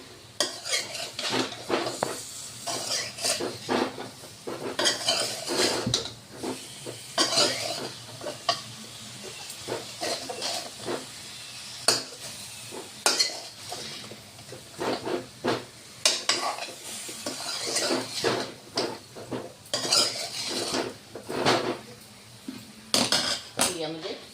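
A utensil stirs sweet corn fry with chaat masala in a pan, producing steady metallic clatter and scraping against the pan over a soft sizzle, continuing for many seconds without talk.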